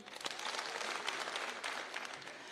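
Audience applause for nominated Senator Isaac Mwaura at a political gathering, a steady wash of clapping from a crowd that holds evenly for a couple of seconds without a break.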